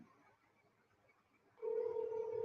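A steady phone ringing tone starts partway through and holds on, after a faint, quiet stretch.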